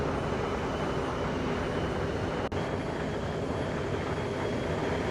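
Embraer ERJ145 airliner flying past in the X-Plane 12 flight simulator, a steady loud broadband jet roar holding level throughout with one brief dropout midway, no voices.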